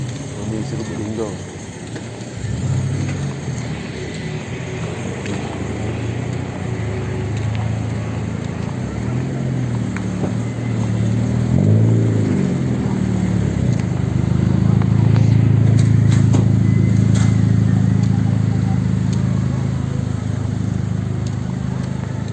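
Car cruising on an Indonesian highway at around 60–70 km/h during the Jakarta–Padang Eid homecoming trip, a steady road and engine rumble that swells louder midway, with people talking inside the cabin.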